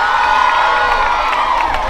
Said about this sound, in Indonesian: teman-teman yang di atas ngapain? Tepuk tangan dulu dong